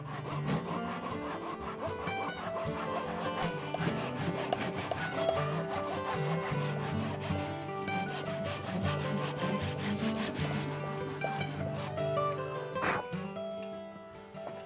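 A hand saw cuts a kerf into a wooden mallet handle with steady, rapid back-and-forth rasping strokes, close and clear, continuing rhythmically throughout with a brief pause near the end.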